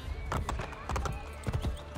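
A horse's hooves clip-clop in Assassin's Creed Brotherhood, a few uneven, close knocking steps over game ambience.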